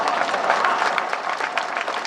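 An audience at a live poetry gathering claps in sustained applause, a dense, even patter of many hands lasting about two seconds with no break.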